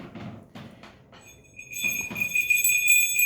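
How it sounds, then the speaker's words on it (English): A small sleigh bell is shaken, its bright ringing jingle rising after a few soft knocks and sustaining with shimmering, overlapping tones, fairly close and clear. "I shook the bell."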